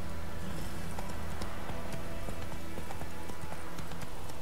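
The horse Roach gallops in The Witcher 3 video game, with steady, rapid hoofbeats that sound close and moderately loud, set over a low ambient game backdrop, with no talk.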